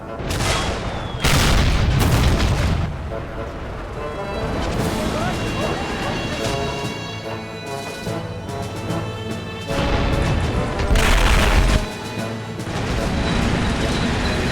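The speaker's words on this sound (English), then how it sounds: "Time to send up the artillery." Artillery fire in a toy war battle: repeated heavy booms and crashing blasts, loud and close, recurring through the clip over a dense layer of battle noise.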